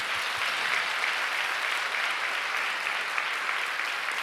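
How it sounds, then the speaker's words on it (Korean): A large church congregation at a prayer meeting claps together in a dense, even roar of hands that holds steady and fairly loud from start to finish. "우리 같이 우리 그분들 위해서 박수 한번 쳤으면 좋겠는데요."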